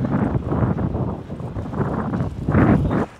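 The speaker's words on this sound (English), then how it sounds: "I'm covering my face because it's windy." Gusty wind blasts the microphone in loud, uneven bursts, with no talking.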